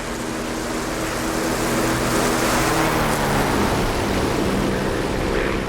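A Spitfire's piston engine roars steadily through a takeoff run in the DCS flight simulator, a loud, continuous broadband drone that swells slightly partway through and holds without a break.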